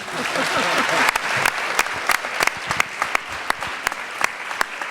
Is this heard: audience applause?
yes